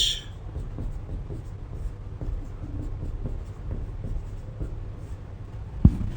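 Chalk or marker scratches across a classroom board during a chemistry lecture, soft irregular strokes close by over a low room hum, with one sharp tap near the end and no speech.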